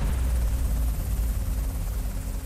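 Steady, loud low rotor drone of a Seahawk helicopter, continuous throughout with no pauses and no voices.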